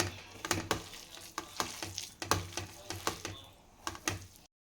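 Chicken drumsticks being mixed with garam masala and spices in a bowl, a steady run of wet slaps and scraping stirs with sharp clacks, close and fairly quiet, with no talk.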